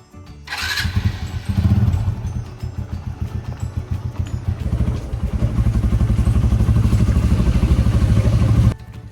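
A motorcycle engine starts and runs steadily, a loud close rumble with clattering that continues throughout.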